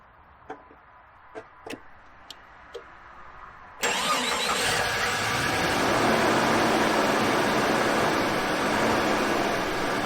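A Jeep Cherokee 4.0L engine, just fitted with a new crankshaft position sensor, cranks after a few faint clicks and catches abruptly, then settles into a steady, loud idle that runs on to the end.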